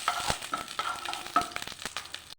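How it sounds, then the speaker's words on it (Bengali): Whole cumin, bay leaves and dried chillies crackle and sizzle in hot tempering oil for dal, with close, irregular pops and spits over a soft frying hiss. "গোটা জিরে, তেজপাতা, শুকনো লঙ্কা দিয়ে দিচ্ছি।"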